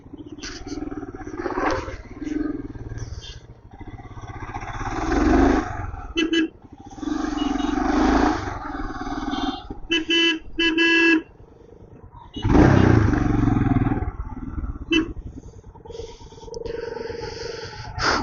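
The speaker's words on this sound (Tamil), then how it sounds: "ஆஹா, இவ்வளோ டிராஃபிக்கு எப்பா! கிட்டத்தட்ட நானும் ஒரு 5 கிலோமீட்டரா பார்த்துட்டு இருக்கேன். ஃபுல்லா லைன், கார் லைன் அப்படியே வரிசை கட்டி நிக்குது." Heavy monsoon traffic jam on the road from Coimbatore to Munnar, with long queues of cars and bikes: loud idling engines, repeated horn blasts and revving motorcycles close by, with a voice talking now and then.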